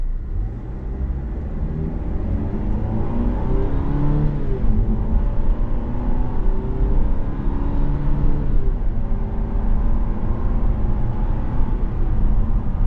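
A 2025 Cadillac CT5 Sport AWD with a 10-speed transmission drives under manual paddle shifting, its engine heard from inside as a steady, moderate drone that rises and falls with each gear change alongside tyre and road rumble.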